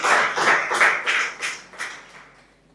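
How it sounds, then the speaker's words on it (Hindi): An audience at a poetry event claps in welcome for a poet, a few loud rhythmic bursts of applause up close that fade out over a couple of seconds. "एक बार जोरदार तालियों के साथ इनका स्वागत करें।"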